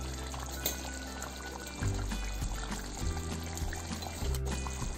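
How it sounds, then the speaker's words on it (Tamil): Coconut milk pours into egg curry gravy in a pan, a soft, steady liquid pour with faint sizzling and kitchen hum throughout, no speech. "தேங்காய் பால் 1/2 கிளாஸ் எடுத்துருக்கேன். ஊற்றுங்க."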